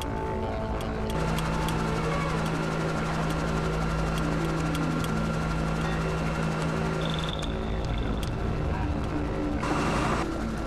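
A helicopter flies over the Bungle Bungles in Australia, its engine a steady, loud drone that fills the whole stretch without a break, with a faint higher whine coming and going near the end.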